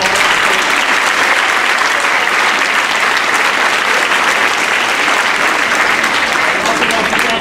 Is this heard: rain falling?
no